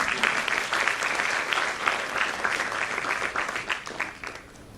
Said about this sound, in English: Yes, you can clap if you want to.